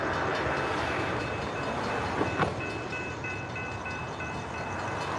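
A Brightline passenger train rolls past a rail crossing in Stuart, a steady broad roar of wheels and cars that holds loud and close throughout, with faint high tones and a brief louder burst near the middle.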